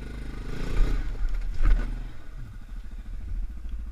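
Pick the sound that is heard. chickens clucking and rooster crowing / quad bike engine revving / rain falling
quad bike engine revving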